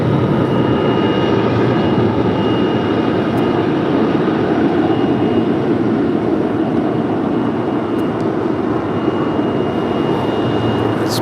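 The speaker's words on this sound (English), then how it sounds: "now this DHL Coletta Air 777 coming in from Cincinnati going long" A DHL Kalitta Air Boeing 777 cargo jet lands at LAX, arriving from Cincinnati, with a loud, continuous, broadband engine roar throughout.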